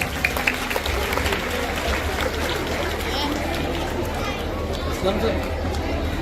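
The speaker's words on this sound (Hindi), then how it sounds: "जोरदार तालियां सर के लिए।" An audience applauds at an Urdu high school's annual day function, a thick, continuous clatter of many hands mixed with crowd chatter and voices, steady and fairly loud throughout.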